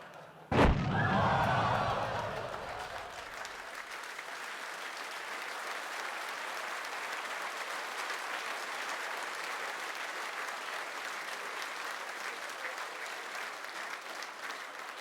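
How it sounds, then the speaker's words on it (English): A sharp thud opens, then a studio audience breaks into sustained applause that holds steady and moderately distant for the rest of the stretch, a dense wash of many hands clapping. "the audience there applauding the tragic death"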